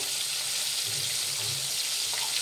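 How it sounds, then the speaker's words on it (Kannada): KFC-style chicken popcorn fries in oil over a medium flame, giving a steady, close bubbling hiss that holds evenly throughout with no voices. "ಮೀಡಿಯಂ ಫ್ಲೇಮಲ್ಲಿ ಇಟ್ಟು ಫ್ರೈ ಮಾಡಬೇಕಾಗತ್ತೆ"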